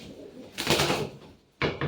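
Birds make two brief, fairly close bursts of sound, a longer rustling one followed by a short double burst after a pause, with no talking.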